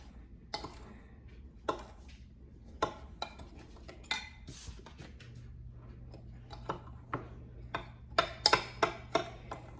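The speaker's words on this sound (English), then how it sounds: "Then we're going to take 1 heaping tablespoon of flour. So, and then you're gonna mix that." Apple pie filling being stirred with a spoon after a heaping tablespoon of flour goes in, producing a steady series of close, sharp clinks and taps of utensil on bowl, evenly spaced, with no talk.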